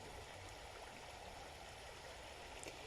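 A flowing stream keeps up a constant gentle rush of water, faint and steady, with no voices.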